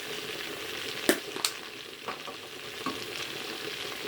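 Cabbage fries in a pan with a steady broadband sizzle, punctuated by a few sharp clatters of stirring or added leaves; no one speaks.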